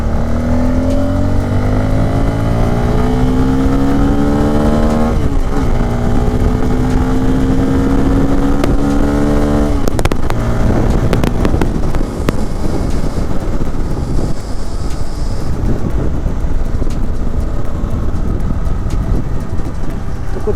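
A Bajaj Pulsar N250 motorcycle accelerates hard through its gears on a ride, with the engine note climbing steadily, dropping briefly at each shift, then climbing again under constant heavy wind rush.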